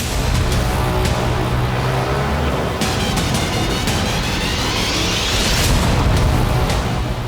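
Loud, continuous roar of a large wartime explosion in the Russia-Ukraine war, with a rumbling low end and crackling debris, sustained throughout without any voices.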